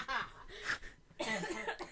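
A few harsh coughs close to the microphone, in short bursts with a brief pause between, mixed with voiced throat sounds and some talking.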